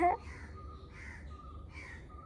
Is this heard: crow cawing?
yes